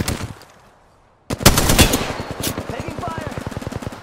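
Automatic weapon fire from a firefight in the battle royale shooter Apex Legends, a loud rapid burst of evenly spaced shots starting abruptly after a brief quiet lull and continuing steadily to the end, with a voice calling out over it.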